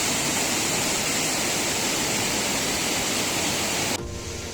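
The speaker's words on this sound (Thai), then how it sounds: "น้ำตกชั้นบนสุดนะครับ ของคลองกล้วยนะ" The top tier of Khlong Kluai waterfall in Khao Yai roars as a steady, dense rush of falling water, loud and close, continuous throughout with a slight drop in level at the very end.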